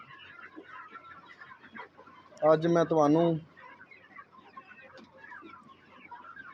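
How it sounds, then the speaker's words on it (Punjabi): Desi chickens on a farm, with one loud clucking burst of squawks close by in the middle and quieter bird chatter throughout, while someone speaks briefly. "ਦੇਸੀ ਮੁਰਗੀ"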